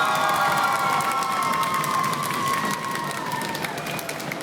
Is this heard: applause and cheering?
yes